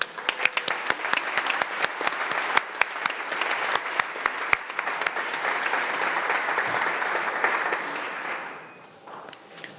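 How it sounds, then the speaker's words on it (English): An audience at a master's diploma ceremony applauds steadily with dense, sharp clapping that carries on at full strength, then thins and fades out near the end. "we should all applaud ourselves for this achievement"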